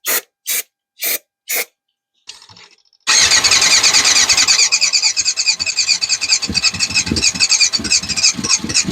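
A Yamaha FZR600 motorcycle left off the road for 20 years cranks in four short starter bursts, then a brief weak attempt, then catches and runs loudly with a busy, uneven idle close by.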